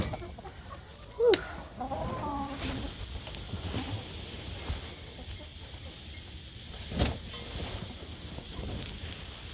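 Chickens in a coop give scattered clucks and a couple of louder squawks over a steady outdoor background, fairly close by.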